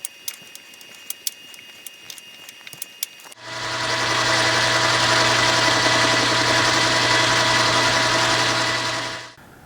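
A CNC machine cutting the outside surface of a small micrometer dial part on a 4th axis, a steady loud whirring drone that starts abruptly after a few seconds of quiet ticks and runs continuously until it cuts off near the end.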